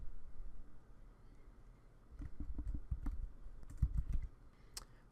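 A computer keyboard clacks under quick typing, a short run of close, soft key taps clustered in two bursts over a quiet room hum, with no talking.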